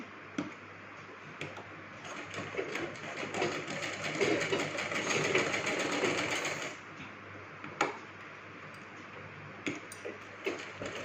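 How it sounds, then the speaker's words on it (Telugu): A sewing machine runs a double line of stitching along a kids' lehenga, its steady mechanical rattle building and holding for several seconds before stopping, with brief clicks and handling noises afterward and no talking. "దీన్ని అయితే మళ్ళీ డబల్ స్టిచ్ అయితే వేస్తున్నాను"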